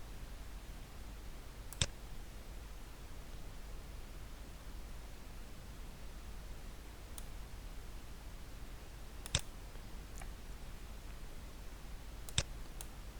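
Sparse computer mouse clicks while setting up an online shop, a few sharp isolated clicks spaced seconds apart over a steady low hiss, no voices.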